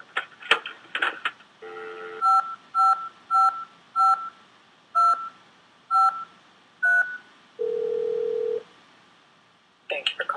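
Payphone keypad in a puzzle video game: a series of about nine short electronic touch-tone beeps at a steady pace, with one longer tone, preceded and followed by brief clicks and noise.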